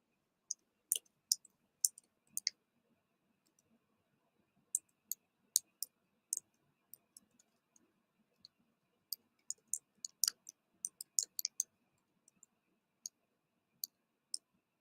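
Someone types on a computer keyboard in a quiet room: sparse, crisp key clicks come in irregular bursts with short pauses between them.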